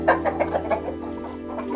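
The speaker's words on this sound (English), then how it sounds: "chickens." Farmyard chickens cluck close by in a quick series of about six short, rhythmic clucks, then fall quieter.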